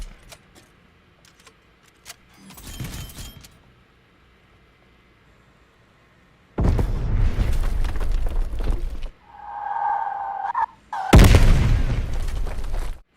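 Gunfire in Black Ops Cold War on the Zoo map, heavy booming shots in bursts separated by near silence, then loud sustained blasts and a short tonal in-game sound before a final loud shot burst.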